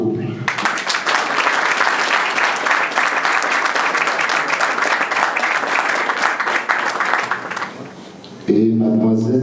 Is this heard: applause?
yes